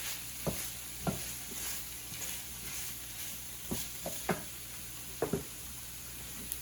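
Creamy risotto gets stirred in a hot pan: a low steady sizzle runs throughout, punctuated by several distinct spoon knocks and scrapes at uneven intervals, close and fairly quiet, with no talking.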